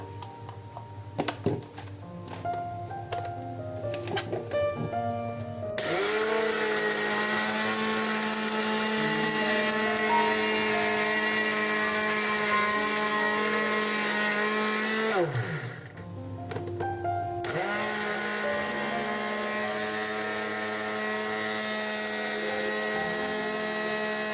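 A blender grinds dry eggshells, a loud, steady whirring motor with a rattling grind that runs continuously, dips briefly when the motor pauses, then resumes at full strength; no speech.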